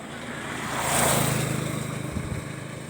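A fast motorboat roars past close by, its engine swelling to a peak and then fading, with a steady throbbing hum and the wash of water underneath.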